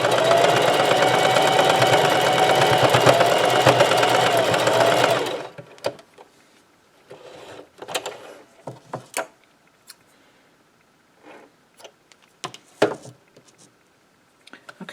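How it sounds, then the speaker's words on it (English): A serger stitches shirt fabric with a loud, rapid mechanical whir for about five seconds, then cuts off, followed by scattered soft clicks, taps and fabric handling. "I could use my serger."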